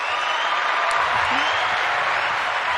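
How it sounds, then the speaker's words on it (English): Studio audience clapping for a guest on a basketball talk show, a dense, even wash of applause that holds steady from start to finish with a few faint cheers mixed in. "let's give you a round of applause."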